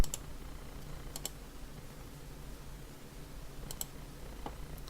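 A few keyboard keys are tapped as an IP address is typed, sparse quiet clicks in small clusters over a low steady room hum.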